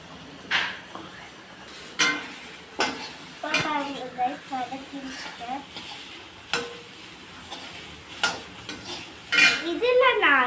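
Okra (ladies finger) curry is stirred and sautéed in a pan, with a spoon scraping and clinking against the metal over a steady sizzle of frying; a voice speaks briefly in between.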